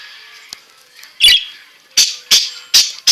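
A pet bird squawks indoors in loud, sharp bursts: one early call, then four close squawks spaced about evenly, near and clear with no talking.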